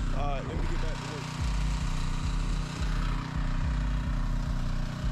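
A pressure washer runs with a steady, rhythmic, pulsing engine drone, loud and close throughout, while someone talks briefly over it.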